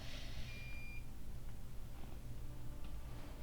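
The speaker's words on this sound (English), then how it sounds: "My printer just beeped at me after I said that." A printer beeps once, a thin high electronic tone, near and clear over a low background hum.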